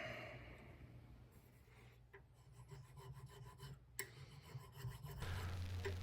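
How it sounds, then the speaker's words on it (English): Metal files rasp by hand against a knife blade, a dry scraping rhythm of repeated strokes, close and fairly quiet, with no talk. "Using a variety of files here."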